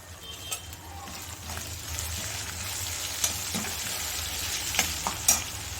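Tomatoes with a pinch of salt frying and being stirred in a pan for tomato rice: a continuous close sizzle with scraping spoon strokes and occasional louder clatters near the end.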